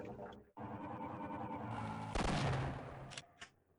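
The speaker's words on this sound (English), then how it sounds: "to use the old shotgun blast" A loud shotgun blast from the game Half-Life, a dense broadband burst that swells in the middle of a busy stretch of game noise, followed by two short sharp snaps near the end.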